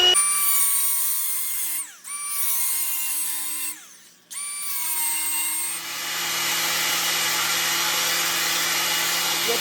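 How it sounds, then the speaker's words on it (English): An angle grinder works on parts of a 1977 Honda FL250 Odyssey during a restoration, producing a high whining drone that briefly cuts out twice before settling into a steadier, rougher grind. "Got the grinder running on autopilot here."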